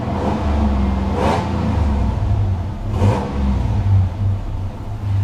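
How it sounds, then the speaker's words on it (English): A 2000 Toyota 4Runner engine idles with a low steady rumble and a faint supercharger whine on top, revving up briefly twice before settling back down. "you can kind of hear the Toyota, the Supercharger whine"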